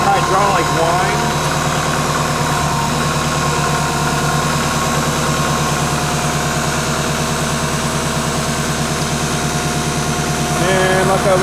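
A Kubota M5660 SU tractor with shuttle shift idles steadily at close range, its engine a continuous rumbling drone with a faint hydraulic whine riding above it, unbroken for the whole stretch.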